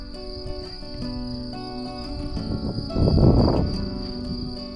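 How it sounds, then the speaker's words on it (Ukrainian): Crickets chirp steadily in a high, continuous trill on a mountain hike, with no speech, while a rustle of footsteps or movement swells briefly near the middle. "Це цвіркуни."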